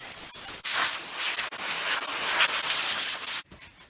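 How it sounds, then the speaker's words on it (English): A 60-grit flap disc grinds against a wooden lamp base in one continuous harsh, hissing rasp for about three seconds, starting and stopping abruptly, close and loud. "This is a 60 grit flapper sanding disc."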